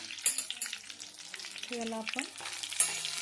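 Stuffed brinjal fries in a pan while being stirred, with scraping clatters and sizzling bursts, under brief speech.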